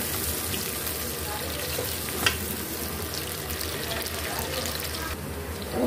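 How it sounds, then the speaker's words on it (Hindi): Onion fries in hot mustard oil, a steady close sizzle that holds throughout with a faint stir or clink partway through. "प्याज को हमने फ्राई कर लेना है"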